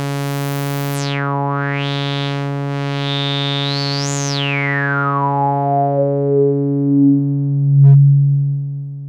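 A resonant synthesizer tone on a Behringer 2-XM sweeps slowly up and then down in pitch over a sustained bass drone, resonance at maximum, whistling at the peak before settling into low rumbles.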